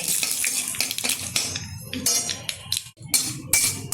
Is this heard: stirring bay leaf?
yes